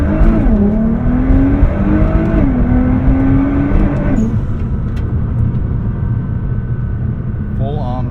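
A 2012 Nissan GT-R R35 accelerates hard from a standstill toward 60 mph in manual mode, its engine note climbing steadily with gear-change dips, loud and continuous from inside the cabin while someone talks over it.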